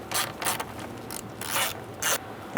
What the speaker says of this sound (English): we're going to use an 8mm socket and an extension, and we're going to loosen our hold-down bolt